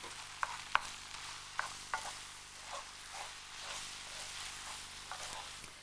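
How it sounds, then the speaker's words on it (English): Beaten egg being stirred into hot soup so it sets into little flakes: a soft, steady stirring swish over a low simmer, with a few sharp spoon clicks against the pot early on. "you can start to stir and the little flakes of egg will begin to appear"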